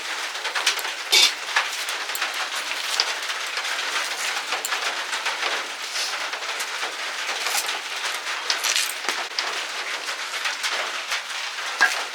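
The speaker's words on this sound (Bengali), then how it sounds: "এই বৃষ্টি কোনো কাজে নয়" Rain falls in a steady, dense patter, a continuous even hiss with scattered light ticks. A few faint bird chirps come through in the background, and there is no talking.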